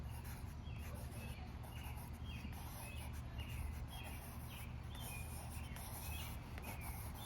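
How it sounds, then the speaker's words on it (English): An American robin sings outdoors in repeated short phrases, moderately distant, over a steady low rumble of traffic and faint background noise. "That's a robin, by the way."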